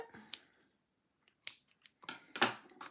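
Scissors snip and trim paper for little cutie party favors, a few crisp separate cuts spaced out over quiet, close and fairly clear with no talking.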